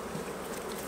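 Honey bees buzzing steadily at an open beehive during a comb change, a dense close swarm hum without pauses.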